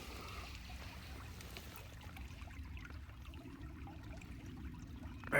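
Low trickling and gurgling of a mountain creek on Mount Saint Helens, a steady faint wash of running water throughout with no voices.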